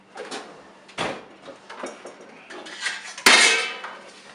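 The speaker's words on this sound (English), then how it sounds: "Take this pan, move it over." A metal baking pan is shifted across a kitchen counter while pastelillos are being made, giving several light clanks and scrapes, then one sharper, louder metallic knock near the end, heard close with no talking.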